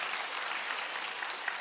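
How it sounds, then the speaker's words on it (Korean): A church congregation applauds after the choir's hymn, a soft, steady, evenly spread patter of many hands clapping, fairly distant and uniform throughout. "은혜로운 찬양에 다시 한번 영광의 박수 올려드립니다"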